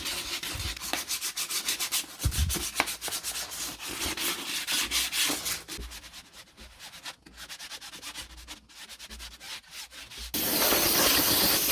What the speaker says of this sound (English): Sand the complete edge of the rim as well.